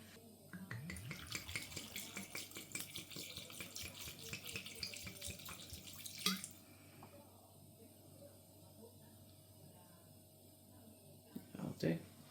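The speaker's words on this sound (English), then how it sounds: "I'm going to add half a bottle of red wine." Red wine is poured from a bottle over beef in a bowl, a soft, faint, continuous trickling splash lasting several seconds under a low hiss, with a quiet clink at the end.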